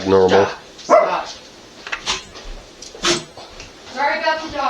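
Household dogs bark in short bursts nearby, mixed with a voice talking over them.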